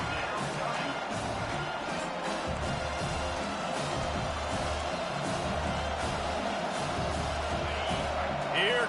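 A home stadium crowd roars steadily in a football video game during a Michigan at Washington matchup on third down, a constant dense din under a commentator's voice.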